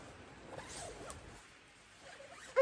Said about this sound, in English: This thing zips out.